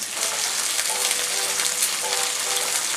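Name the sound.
chicken pieces frying in hot oil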